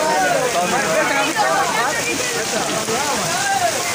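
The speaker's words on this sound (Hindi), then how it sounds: "कितनी बारिश बहुत ज़्यादा बारिश है" Heavy rain pours down steadily at an outdoor wedding feast, a dense, continuous hiss of drops on surfaces close by, with voices faintly mixed in.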